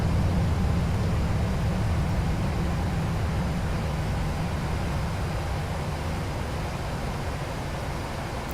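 A Boeing 737 airliner in a flight simulator roars under reverse thrust just after touchdown, a loud, dense and steady rush of engine noise that fades slightly over several seconds.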